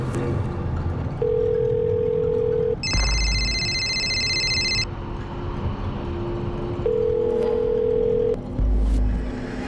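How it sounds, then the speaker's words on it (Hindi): A telephone call goes unanswered: a steady ringback tone sounds twice, separated by a pause, alongside other electronic phone beeps over a low background hum. "मैं तेरे अब्बू को कब से फोन लगा रही हूँ, फोन नहीं उठा रहे"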